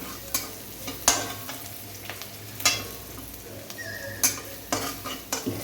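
Potato samosa filling with chilli, turmeric and garam masala powders is sautéed in a pan: a low frying hiss under sharp, irregular spatula scrapes and taps on the pan, several loud strokes spaced about a second apart.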